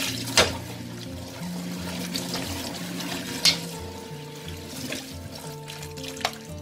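Running water splashes in a sink as chopped vegetables are washed, with a few knocks and clunks of handling mixed into the steady flow.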